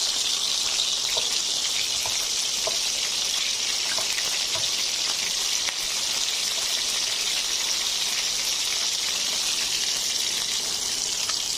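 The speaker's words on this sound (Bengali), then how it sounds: "আমি মাংসটা ডিপ ফ্রাই করব, তার জন্য দিয়ে দিচ্ছি তেল।" Chicken pieces deep-fry in plenty of hot oil after being turned. A loud, dense, continuous sizzle holds evenly throughout, with faint scattered pops and no speech.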